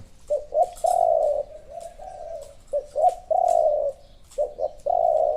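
A spotted dove in Thailand coos in repeated phrases, each a short pickup of soft notes followed by a long, steady, resonant hoot, close and clear, with three full cycles and no voices.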